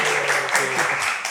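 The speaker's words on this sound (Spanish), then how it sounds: "Escuchen y verán ese aplauso." Brief burst of live audience applause in a café during a podcast recording, dense clapping with voices mixed in over it.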